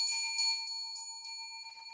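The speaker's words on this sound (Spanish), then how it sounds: "actives esa campana de notificaciones" A bright, ringing bell tone sustains and slowly fades, with a few light repeated strikes early on; clear and close, with no voices.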